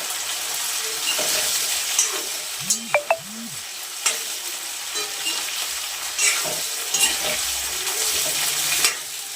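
Cauliflower florets frying in a pan with oil for a cauliflower and green pea kurma, a steady close sizzle with a few stirring knocks and scrapes throughout, no talking.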